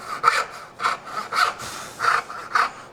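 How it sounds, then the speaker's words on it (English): A hand saw cuts into wood along a kerf in five or six even, rhythmic rasping strokes, close and clear with no talking. "That saw sits right in that kerf."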